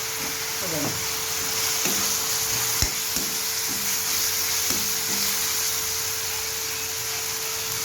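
Butter melts and sizzles in a pan while pav bhaji is being cooked, giving a steady, fairly quiet frying hiss with a few clinks and scrapes of a utensil against the pan.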